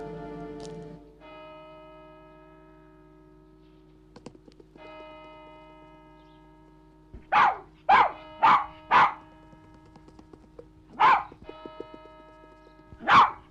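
A dog barks in a short series of loud, close barks, several in quick succession and then a couple more after a pause, over a steady low tonal hum and some quiet clatter, with no talking.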